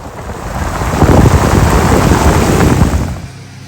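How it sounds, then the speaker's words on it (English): Heavy torrential rain pours down during a thunderstorm at sea aboard a sailing boat off Indonesia, a loud, dense broadband hiss that swells in the middle and eases toward the end, with no voices. "The rain is torrential and visibility drops."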